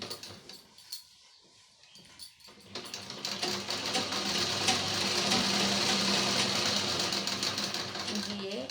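A sewing machine stitches a double seam on a homemade market bag, starting with a few short bursts and then settling into a steady, fast whirring run that stays loud and close to the end.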